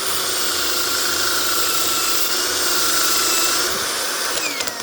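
Close, unbroken whine of a cordless screwdriver sanding a meteorite, the motor's tone and gritty scraping staying loud and even throughout with slight wavering toward the end.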